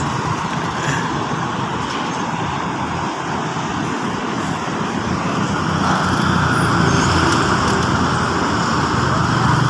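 Steady roar of congested traffic on the Cikampek toll road, a dense continuous wash of car and bus engines and tyre noise, loud and unbroken, swelling slightly in the second half with no talk.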